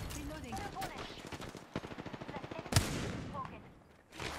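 Automatic weapon fire in a shooter video game rattles in a rapid regular burst, with a sharp louder crack partway through, while players talk over it.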